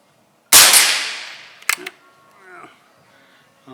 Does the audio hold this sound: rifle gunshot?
yes